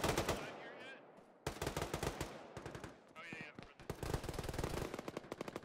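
Bursts of automatic gunfire in the Arma military game ring out during a ShackTac urban fight around a radar building, loud, rapid and repeated volleys with short gaps between them.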